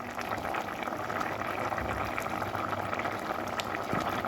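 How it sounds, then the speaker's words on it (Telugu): Taro root simmering in a tamarind curry in a pot, a steady close bubbling boil that fills the whole stretch with dense liquid burbling and no voices. "చామగడ్డ అయితే ఇలా ఉడకనియాలి, పులుసు అంతా దగ్గరికి అయ్యేలా కొంచెం పులుసు విరగాలి."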